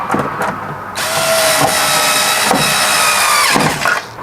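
Power drill driving big screws into a front door speaker mount in a Chevy Express van, a loud sustained whir that runs almost steadily with brief dips in pitch and load.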